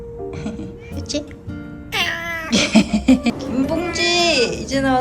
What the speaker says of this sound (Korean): 고양이들 확인 완.